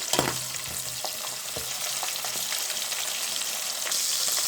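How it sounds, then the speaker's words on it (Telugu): Sand whiting fish frying in hot oil gives a steady, dense sizzle with a soft crackle that holds evenly throughout, close up with no talking. "ఇసుక దొంతులు మొత్తం చక్కగా క్లీన్ చేసుకొని ఆయిల్ ఫ్రై చేసుకోవాలి"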